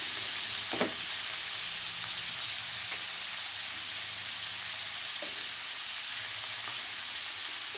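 Freshly cut and washed amaranth leaves sizzle in a hot pan, a continuous bright hiss with occasional small pops, steady and close.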